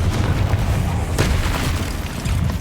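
A Confringo blasting spell in Hogwarts Legacy goes off as a loud, dense boom with a rumbling, noisy burst that fills the whole short moment, close and unbroken.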